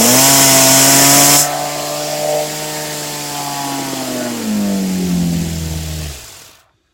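Rotary tumbler motor churning items through rice media, a loud steady whine and hum whose pitch drifts and slides downward as the speed varies, then cuts off abruptly.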